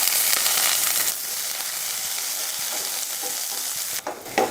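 Dry red chilies and onion sautéing in a pan for chutney give a bright, steady sizzle with hiss, louder at first, then softer, with a few stirring scrapes near the end.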